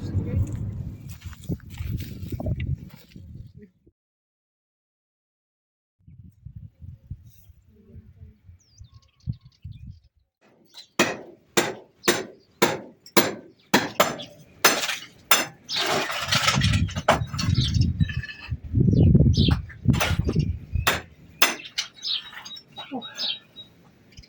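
A hammer swings and strikes on a Portuguese homestead farm, landing a steady series of sharp, close blows after people talk for a while, with voices continuing between the hits.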